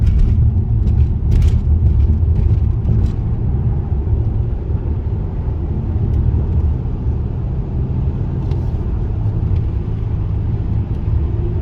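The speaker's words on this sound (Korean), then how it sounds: "오르막길에 밟아 보겠습니다." A gasoline car climbing an uphill road under throttle, a low, continuous engine drone with road rumble heard from inside the cabin, steady and moderately loud with a few faint clicks and no talking.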